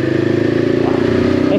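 A 2023 Voge 525 ACX motorcycle engine pulling through a corner, a close, loud, steady mid-pitched drone with a fine regular pulse, while a rider speaks over it.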